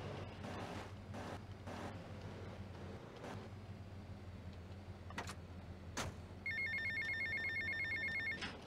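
A phone rings in a rapid electronic trill during the game GTA Vice City, starting late and ringing steadily over quiet waves and in-game ambience.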